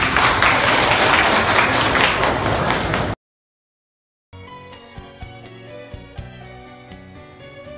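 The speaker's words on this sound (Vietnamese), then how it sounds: "Xin một tràng pháo tay." Loud, dense audience applause at a joint-pain seminar in Belgium fills about three seconds, then cuts off abruptly into silence before music begins.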